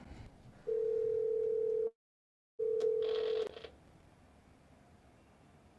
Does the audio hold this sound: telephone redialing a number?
yes